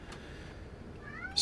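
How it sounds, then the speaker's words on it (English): A deaf pet cat gives a short meow close by, rising out of a quiet room near the end, with a brief, brighter cry cutting in at the very last moment. "And I hear my cat."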